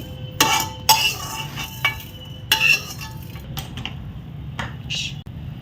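Fenugreek seeds dry-roast in a pan with no oil while being stirred for a tomato and amaranth-leaf chutney, giving a few sharp clinks and scrapes of utensil on metal in short bursts, with no talking.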